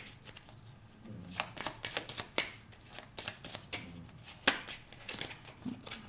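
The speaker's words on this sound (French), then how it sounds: "on va tirer nos 9 cartes." Tarot cards shuffled by hand in a quiet room, a steady run of soft riffling and slapping bursts close to the listener with no talking.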